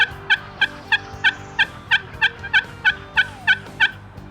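A wild turkey gobbles in a steady series of about a dozen sharp, evenly spaced calls, fairly close and clear over a quiet outdoor background.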